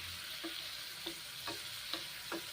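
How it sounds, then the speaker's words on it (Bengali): Ridge gourd and carrot frying in a pan for a lentil dish, a steady soft sizzle broken by four evenly spaced scraping strokes of a spatula, close and moderately quiet with no voices. "ভেজে নিচ্ছি বেশ ভালো করে ভেজে নিচ্ছি এবং মুসুরির ডাল এখন দিচ্ছি ঝিঙে ভেজে নিয়েছি"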